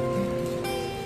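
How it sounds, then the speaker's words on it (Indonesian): Rain falls steadily on surfaces outdoors, a dense even patter of drops with no voices. "keadaan ibu ni tengah-tengah hujan macam ni"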